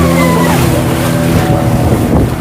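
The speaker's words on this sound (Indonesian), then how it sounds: "Perahu kami makin menjauh dari daratan" A motorboat engine drones steadily over rushing water and wind at sea off Ciletuh, loud and close, with no pauses.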